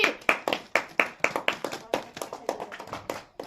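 Children clap in a fast, uneven burst of sharp handclaps, close and lively, with voices mixed in.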